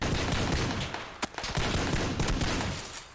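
Gunfire in PUBG on Xbox: dense bursts of shots crackle close and loud with short gaps between volleys, and no voices.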